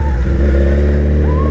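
A Suzuki Hayabusa motorcycle engine runs loud and steady up close, holding a rough idle-level rumble with a slight rise in pitch near the end, no talk over it.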